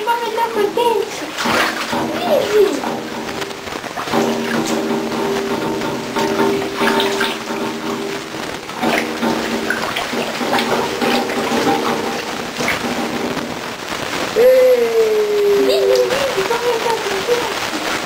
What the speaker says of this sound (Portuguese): tô sentadinho na minha banheira, brincando com meu peixe, né?